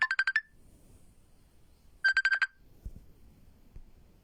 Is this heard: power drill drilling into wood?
no